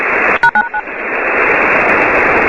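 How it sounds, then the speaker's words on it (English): A burst of DTMF touch tones over a radio transmission, a quick string of about four short beeps near the start, then steady loud radio static hiss carrying on afterward. "you heard a couple touch tones designed to trip something"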